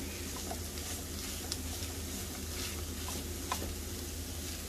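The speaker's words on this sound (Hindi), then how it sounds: "बस 2-3 मिनट में ये भून जाएगा जो हमने इसके अंदर मैदा डाला है" Flour roasting in a pan with chicken and onion over a lowered flame, a steady soft sizzle and crackle of frying with a few faint stirring ticks, continuous and alone.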